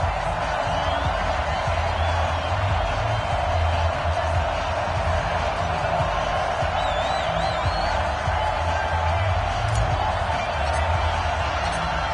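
The stadium crowd in an EA Sports NFL video game, at Baltimore for Ravens versus Bengals, keeps up a steady dense roar with faint cheers and whoops rising above it.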